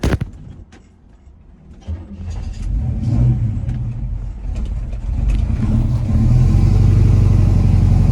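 A 1979 big block square body truck engine, almost out of gas and running rough, sputters low at first, then revs up into a loud, sustained deep roar that builds and holds toward the end, close up with no talk.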